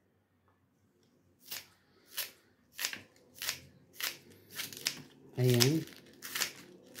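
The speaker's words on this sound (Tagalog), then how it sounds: "Mas nasanay tayo dito sa gunting kaysa yung kutsilyo na paghiwa." Kitchen scissors snip through food for cooking, about eight crisp, evenly spaced cuts, close up, with a brief spoken word partway through.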